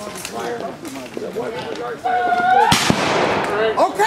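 A ragged musket volley crashes out at a War of 1812 battle reenactment, a loud burst of overlapping shots after shouted commands, followed by crackling echoes and more voices calling out nearby.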